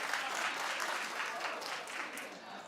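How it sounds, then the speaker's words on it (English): A studio audience claps in a steady, dense burst that sounds somewhat distant and soft, easing slightly toward the end, with faint voices beneath. "Clap if you'd be okay with that."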